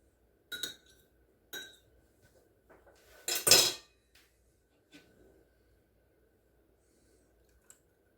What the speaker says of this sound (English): let me get a spoon out